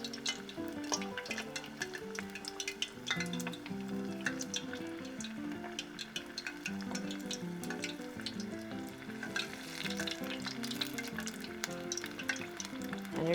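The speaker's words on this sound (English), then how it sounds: "And you're going to fry those till they're nice and golden." Tempura shrimp dipped in batter and dropped into hot oil, frying with a steady, close, bubbling sizzle that runs the whole time beneath background music.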